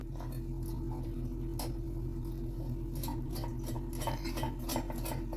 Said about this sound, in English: let me just put the lid back on